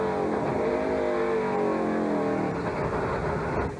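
A NASCAR Winston Cup race car at Sears Point Raceway roars loudly and steadily as its engine revs hard, harmonic engine tones rising and falling in pitch for several seconds, close and continuous with no talk.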